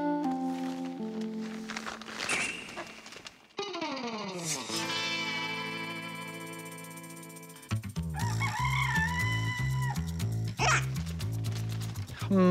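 Chickens cluck and a rooster crows as the birds are chased on a farm, the fowl calls mixed with loud musical effects and stings throughout.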